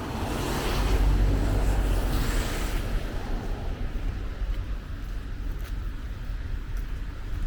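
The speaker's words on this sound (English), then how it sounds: "The wind picked up a little bit." Wind buffets the microphone on a snowy winter walk, roaring loudly at first and then easing into a steady rumbling gust.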